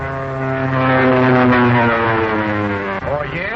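A propeller airplane in a 1936 film serial drones loudly overhead, its steady engine roar holding throughout and its pitch bending downward near the end as it passes.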